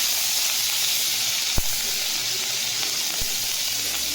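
Chopped onion hits hot oil and sets off a steady, loud, close sizzle that hisses without a break, with a couple of faint clicks partway through.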